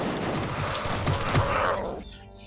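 Automatic shotgun fire in the Gunrgirl 2 video game, a dense burst of rapid blasts that stays loud for about two seconds and then cuts off into a fading ring.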